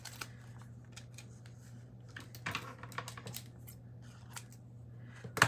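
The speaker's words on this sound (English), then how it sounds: "So I think I'm just gonna cut the stem off." Scissors snip the stem off a floral paper cutout for a planner page: a series of quiet, short cutting clicks spread across the clip, ending with one sharper, louder snip.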